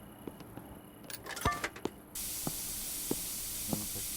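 In the Internet Cafe Simulator 2 game, a spray can gives a short hiss of spraying, then a steady loud hiss goes on with faint clicks, and no one speaks.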